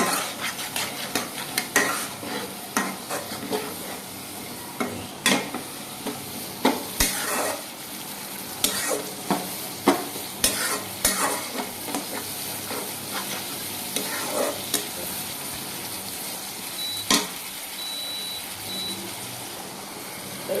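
Vegetables sizzling in a pan with a little spice, stirred repeatedly so a utensil scrapes and clinks against the pan in irregular bursts over a steady frying hiss, close and fairly loud.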